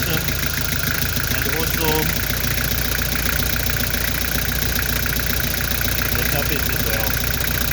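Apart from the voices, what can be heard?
Nissan TD27 diesel engine idling with misfire on cylinder four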